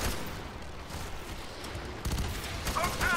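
Gunfire in the co-op shooter game Fear 3: a quiet, dense stretch of rapid shots and bursts forms a fusillade that grows louder near the end, mixed with game noise.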